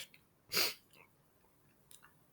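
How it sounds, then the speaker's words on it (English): A single short sneeze bursts out near the microphone in a quiet room, followed by faint breathing and small mouth noises. "sorry, I was sneezing"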